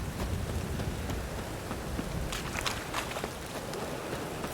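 Steady rain in The Witcher 3 patters continuously on the ground, with a few soft footstep-like taps mixed in.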